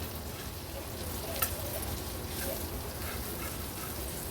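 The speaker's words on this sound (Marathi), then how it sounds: "आता एक एक करून हे वांग्याचे काप आहेत ते पलटून घेणार आहोत" Eggplant slices frying in a pan with a steady, even sizzle and a brief soft knock as a slice is turned, with no voices.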